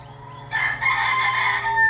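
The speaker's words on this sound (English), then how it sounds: "He sees a rooster down there." A rooster crows once, near and fairly loud, in a short drawn-out call over a steady low background hum.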